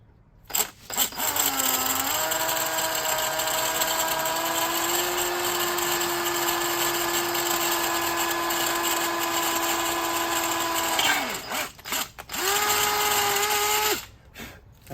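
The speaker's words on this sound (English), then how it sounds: "we're gonna drill down through this hole" A power drill bores down through a template hole into a go-kart fender mount, a loud steady whine holding pitch for about nine seconds, then easing off, with a brief second burst of drilling near the end.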